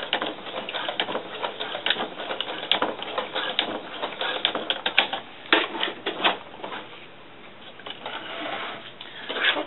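A sewing machine stitches through Velcro for doll snakeskin boots, giving a dense, rapid run of mechanical clicks and taps at moderate level, fluctuating in pace, with no talking.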